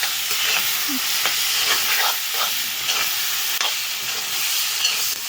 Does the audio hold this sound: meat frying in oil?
yes